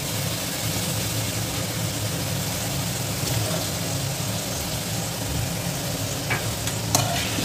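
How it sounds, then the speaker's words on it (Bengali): Garlic, green and dry chillies, and soaked cashews and melon seeds fry in oil for a Bengali prawn makhani biryani, giving a steady close broadband sizzle with faint stirring clinks and no talk. "রসুন আর কাঁচা লঙ্কা, শুকনো লঙ্কাকে ভালোভাবে তেলের মধ্যে ফ্রাই করে নেব"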